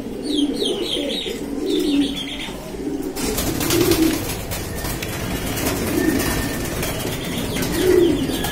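A caged pair of black racer pigeons, one solid black and one black checker, coo repeatedly nearby in rolling, throaty phrases, with chirps and some wing flutter mixed in.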